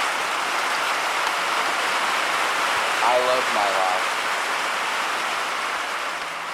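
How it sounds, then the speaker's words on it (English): Steady rain falling outside a barn, a dense, even hiss that continues throughout while someone talks briefly partway through. "And this is that it starts raining."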